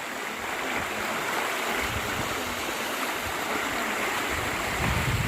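Water rushes continuously in a dense, steady roar from Tham Phra Waterfall in Bueng Kan, Thailand, pouring nearby, with no voices.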